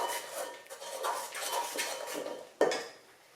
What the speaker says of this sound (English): Just going to mix that in with this flour.